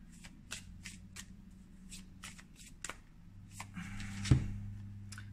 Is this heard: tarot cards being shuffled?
yes